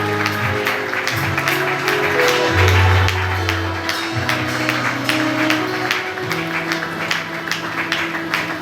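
A church congregation at a Sunday service applauds in acclaim of the Lord Jesus: steady, dense clapping runs throughout, over sustained low musical tones.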